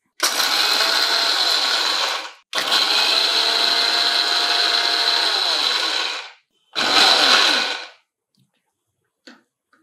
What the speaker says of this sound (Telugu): వేయించిన పల్లీలు పొట్టు తీసేసి ఒక్కసారి గ్రైండ్ చేయండి.